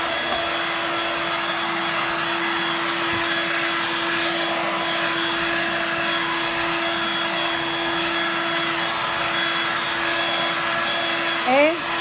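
A Dirt Devil Vibe corded bagless stick vacuum runs continuously at close range, a steady whining motor drone with a faint tonal hum that holds level throughout.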